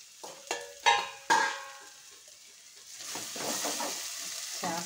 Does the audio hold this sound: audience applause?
no